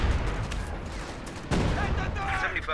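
Machine gun fire rattles in Company of Heroes 2 during a 1v1 match, a dense continuous burst of rapid shots with a sharp report midway, while a commentator talks over it.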